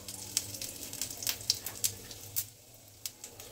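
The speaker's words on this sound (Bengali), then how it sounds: "আর একটু জিরে ফোড়ন দেব।" Cumin seeds crackle and pop in hot oil for tempering, already fragrant with bay leaf, cardamom, cinnamon, cloves and peppercorns, giving sharp irregular spits and pops over a soft sizzle.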